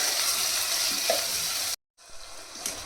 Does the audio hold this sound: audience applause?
no